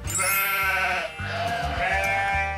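A sheep gives loud, close, wavering bleats, one long call, a short break and then another drawn-out bleat, standing alone with no speech.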